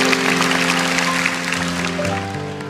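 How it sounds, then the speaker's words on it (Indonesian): A church congregation claps in loud, continuous applause, with sustained musical tones underneath throughout. "Kasih tepuk tangan untuk Tuhan kalau Anda setuju."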